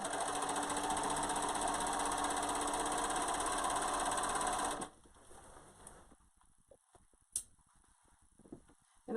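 A sewing machine stitching a reusable isolation gown runs in a steady, buzzing, rapid hum for about five seconds, close by, then stops, leaving quiet rustling and a few faint knocks.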